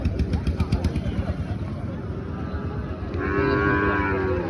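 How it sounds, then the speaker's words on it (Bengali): Cattle moo repeatedly at a busy rural cattle market in Faridpur district, Bangladesh, with a long, loud, close bellow rising near the end over steady crowd chatter and background noise. "চারিদিক দিয়ে শুধু এসব গরু"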